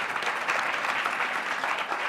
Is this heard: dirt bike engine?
no